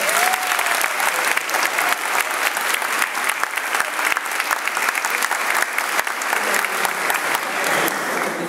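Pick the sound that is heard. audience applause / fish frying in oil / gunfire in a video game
audience applause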